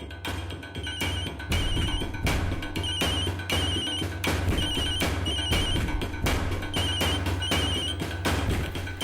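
A telephone rings repeatedly in a room, its bright trilling bursts recurring in a steady rhythm over a low background hum, loud and close throughout.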